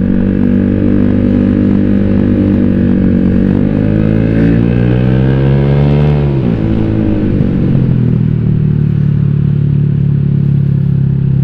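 A motorcycle with a tuned ECU and WRX exhaust rides along loud and close, its engine droning steadily, rising in pitch, then dropping sharply and settling back to a low rumble.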